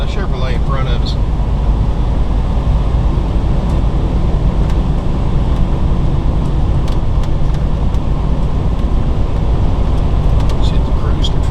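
A 2013 Coachmen Leprechaun 317SA Class C motorhome cruises along a highway at about 65 mph, a steady loud cabin rumble of engine and road noise with faint rattles, as someone talks over it.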